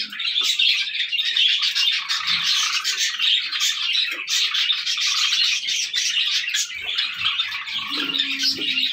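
Pet Java sparrows in a cage chirp continuously, a dense overlapping chatter of bright tweets, close and fairly loud, with a few brief low coos near the end.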